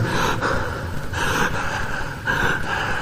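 Imitated dying breath: rough, rasping gasps repeat in a slow, uneven rhythm, close and fairly loud, with no talking.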